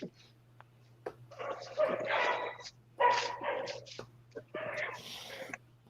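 Dogs bark in several loud, close bursts of rough, overlapping barks separated by short quiet gaps, heard during a fishing outing over a faint steady hum.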